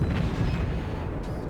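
Heavy naval guns of a warship in the game World of Warships fire in a sustained, loud low rumble that fills the whole short moment, without any distinct separate blasts.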